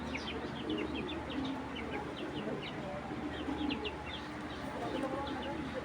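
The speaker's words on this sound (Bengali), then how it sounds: "ভাই এই যে এখানে একটা সাপচিলা কবুতর" A large sapchila pigeon, a tournament bird, gives repeated soft coos in short rhythmic bursts close by over a low steady background hum.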